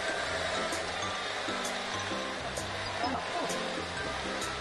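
Hair dryer blowing on dyed hair, a constant loud whooshing roar that holds steady for the whole stretch, with a voice murmuring faintly beneath it.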